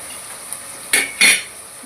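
Spices being stirred into a tomato curry in a pan, a few short scraping clinks of a spoon against the pan over a faint background, close and brief.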